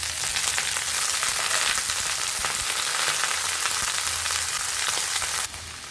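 Beans, yardlong beans, eggplant and cauliflower fry in a pan with a steady, loud, hissing sizzle that holds for several seconds before dipping slightly at the end; no one talks.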